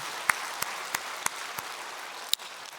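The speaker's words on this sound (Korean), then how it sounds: "하나님께 감사의 박수 올려드립니다" Scattered handclaps ring out in a church, thanking God: about seven sharp, separate claps spaced irregularly over a soft background hiss, thin rather than a full crowd.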